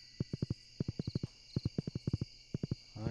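Horse hooves clip-clopping in the farming game Stardew Valley, a steady trotting rhythm of sharp hoof knocks in groups of three or four with short pauses between, clear and close over a faint tonal game backdrop.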